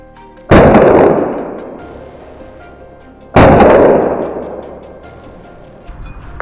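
Two sharp gunshots fired at a charging wild boar during a hunt with dogs, each a loud near crack followed by a long rolling echo that fades over a couple of seconds, spaced about three seconds apart.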